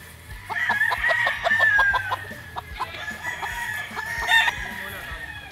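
A yellow-legged Kelso gamefowl rooster at a gamefarm crows loudly up close and clucks in short bursts, with other fowl calling in the background.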